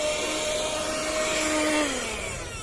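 A cheap Bottari car vacuum cleaner runs with a steady motor whine and airflow hiss, its pitch dropping near the end as it spins down; close and fairly loud, with no talking.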